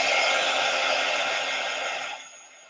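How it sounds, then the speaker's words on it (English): An old Darice heat tool blows hot air with a loud, steady whoosh that cuts off near the end, leaving a faint fading hum. "Now I have a really old Darice heat tool."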